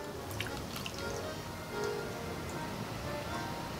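Rose water poured and trickling during a Pombagira candomblé-style ritual, a steady soft liquid patter with small drips, close and continuous with no talk.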